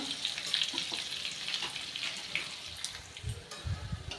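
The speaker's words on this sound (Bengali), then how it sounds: "পেঁয়াজটা একটু ভেজে নেব খুব বেশি কড়া করে ভাজবো না" Chopped onions sizzle steadily in hot oil, with occasional soft stirring noises toward the end.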